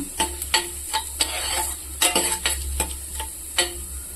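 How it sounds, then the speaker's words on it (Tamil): Mustard seeds, cashews and urad dal sizzle in hot oil for semiya upma, a constant frying hiss punctuated by sharp, irregular pops and crackles of seeds bursting close by, with no one speaking. "கடுகு போட்டு வச்சு நம்ம வந்து முந்திரி உளுத்த பருப்பு வச்சு அதை போட்டுக்கலாம்."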